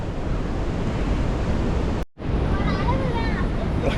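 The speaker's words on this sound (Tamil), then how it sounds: "தண்ணி நல்லா வேகமாக போகுது" Broad, steady rushing of a fast-flowing river, loud and close, with a brief dropout midway and faint higher chirps over the roar.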